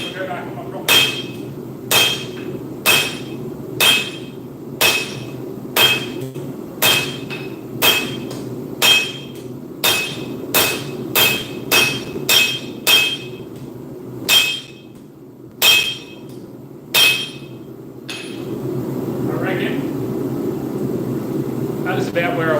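A hammer strikes steel in a workshop, roughly twenty sharp metallic blows ringing in a steady rhythm up close, then stopping as a low broadband rumble rises in the final seconds.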